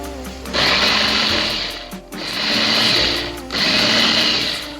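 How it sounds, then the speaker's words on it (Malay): A kitchen food chopper grinds dried shrimp in three loud whirring bursts of about a second each, with short pauses between them and a low hum underneath. "kemudian akak blender pula udang kering tadi. Senang pakai chopper ni."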